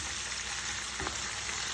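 Bacon and mushrooms fry together in a pan, giving a constant close crackling sizzle with one brief knock of a utensil midway, and no talking.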